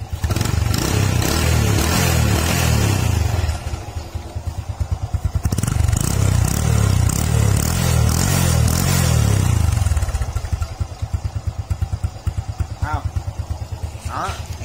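A Honda Future 1 motorcycle engine runs loudly through its exhaust, a close, throbbing idle that rises and falls with blips of the throttle while someone talks over it.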